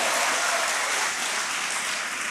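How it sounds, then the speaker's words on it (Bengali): College students in a lecture hall clap for a classmate, a dense, even patter of many hands that holds steady and fades slightly toward the end. "ওর জন্য একটা করতালি দাও।"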